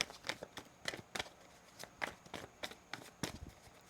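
Rapid papery riffs and slaps of tarot cards being shuffled, in short bursts with brief pauses, close and fairly quiet with no talking.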